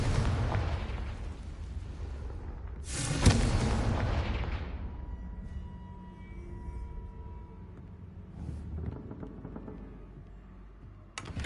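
A Confringo blasting spell detonates in a video game: one sharp, heavy boom with a broad rumbling blast that decays over a couple of seconds over a low background rumble, followed by a smaller thud later.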